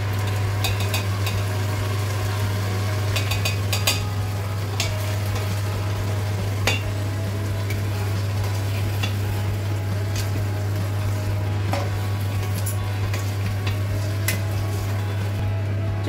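Onion paste cooks in a pan for fish curry, with soft sizzling and occasional stirring and utensil clinks over a steady low hum throughout.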